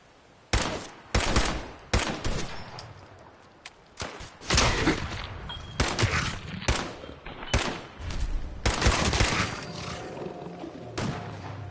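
Gunfire in a wasteland video game: repeated loud, close gunshots and short bursts in uneven clusters, with roaring creature sounds and heavy impacts mixed between the shots.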